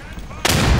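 A single loud gunshot in the World War II shooter Day of Infamy bursts in abruptly after a moment of low rumble and ends the short moment with a booming tail.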